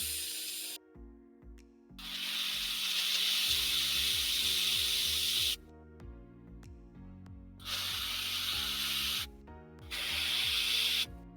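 Spray paint spritzed from above onto a miniature terrain model to give a bronzy, worn finish, with several bursts of loud close hiss separated by quiet pauses over a clicking, tonal background.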